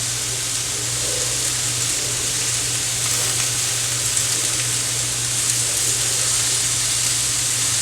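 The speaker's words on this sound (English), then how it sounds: "Let's go back over here and stir our Alfredo." Alfredo sauce being stirred in a pan on the stove gives off a steady, close hiss and sizzle that holds evenly for several seconds, with faint scraping underneath and no voices.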